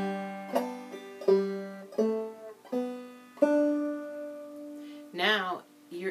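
A clawhammer banjo plays the opening notes of the tune Around the Horn, a handful of single plucked notes on open strings, each ringing and decaying separately, with a brief voice near the end.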